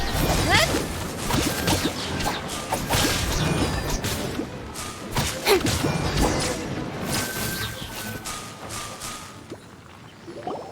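Explosions and combat effects in a video game battle: a dense run of sharp crashing bursts, whooshes and whip-like cracks, loud and near, tapering off toward the end.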